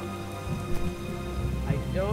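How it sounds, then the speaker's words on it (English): Rain falling in the video game Starbound, seen from inside a cave: a steady patter of drops under game music, with a voice talking at moments. "I see rain coming into the cave."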